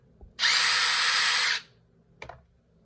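A DeWalt Atomic impact driver runs in one loud sustained burst of just over a second with a steady whine, followed by a brief faint rattle or trigger blip, close to the listener with no talk.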